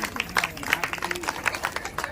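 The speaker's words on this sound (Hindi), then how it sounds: "एक बार ताली बजा लीजिए अपने लिए।" An audience at a Hindi-language public talk claps for itself in a fairly close, uneven burst of hand claps that rises and falls, with crowd murmur beneath.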